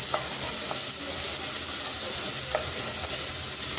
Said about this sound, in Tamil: இப்போ இந்த இஞ்சி பூண்டு நல்லா வதக்கிக்கலாம்